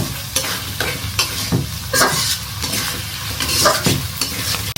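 Potatoes fry in a curry sauce in a pan with a constant sizzle and repeated stirring scrapes, loud and close, with no speech.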